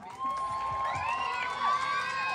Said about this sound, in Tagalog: Maaari po ba akong manlimos ng palakpakan at hiyawan?